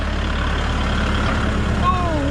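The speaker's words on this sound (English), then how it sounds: "So hopping back on the tractor" A tractor engine runs steadily on a farm with cows, chickens, pigs and goats while bush hogging, a continuous low rumbling drone close by with no break.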